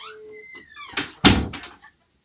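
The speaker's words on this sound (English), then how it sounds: "Close the door." A door closes with a loud thud, preceded by a couple of lighter creaks and rattles as it swings shut, all in a short burst close by in an indoor room.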